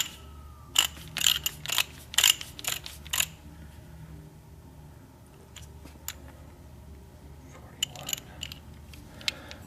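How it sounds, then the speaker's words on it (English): A torque wrench set to 41 foot-pounds ratchets on lug bolts in quick clicking bursts, several rapid runs of sharp metallic ticks close by, then quieter with a few scattered clicks later. "we're going to take our torque wrench"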